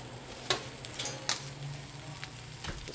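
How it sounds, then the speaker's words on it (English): Beef tenderloin sizzles in a preheated, oiled pan, a steady close hiss broken by a few sharp pops and spatters, with no talking. "Hear that sizzle."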